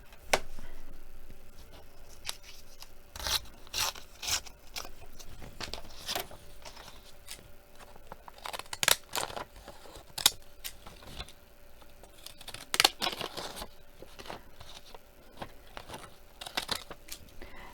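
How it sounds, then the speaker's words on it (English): Quiet, irregular snipping and crisp paper rustles, several short sharp cuts spaced unevenly, close by with no talking. "the other bits I'll just trim off with my scissors"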